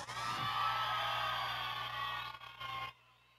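Crowd cheering and whooping for a couple in the final of a neighborhood dance contest at an outdoor dance floor, loud and sustained for nearly three seconds before cutting off abruptly.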